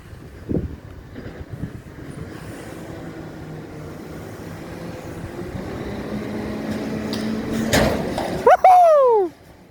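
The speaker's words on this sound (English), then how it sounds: "Focusing into this garbage truck." A CNG-powered EDCO garbage truck gives off a low, steady engine rumble that grows louder as it nears, then a sharp clunk and a whooping human cheer near the end.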